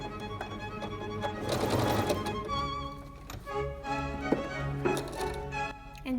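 A sewing machine stitches and backstitches fabric for a scrunchie, giving a steady rapid mechanical whir and ticking at close range with brief stops and restarts and no talk.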